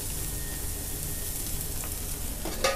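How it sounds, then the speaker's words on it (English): Chicken or beef frying in a pan in a burger restaurant kitchen, a steady close hiss and crackle of sizzling oil, with a brief stirring scrape near the end. "Oh, just hear that sizzle"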